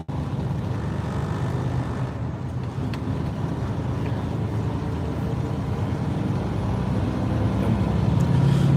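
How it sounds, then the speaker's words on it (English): Road traffic in Nashville, Tennessee, heard as a loud, continuous broadband rumble of passing vehicles, with no break in the drone and no voices. "traffic has really picked up here in Nashville, Tennessee"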